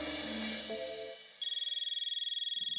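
An outgoing call on a telephone: a short musical ringtone-like melody gives way to a steady, repeating electronic ringback tone, pulsing evenly for over a second before cutting off.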